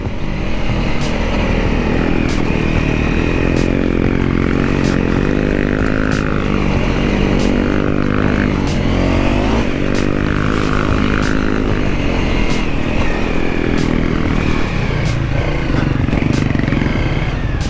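An adventure motorcycle cruises steadily in second gear on a forest trail in Wayne National Forest, its engine a loud, continuous close-up drone mixed with wind rush and no talking.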